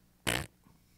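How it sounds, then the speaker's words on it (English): A single short, loud fart noise, likely produced vocally during a live stream, followed by quiet. "Fart noises."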